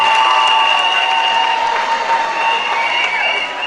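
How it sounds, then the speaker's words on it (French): Wedding guests applaud after the vows at a ceremony, a steady crowd of clapping hands with a faint murmur of voices and a sustained tonal hum running underneath. "Applaudissez s'il vous plaît."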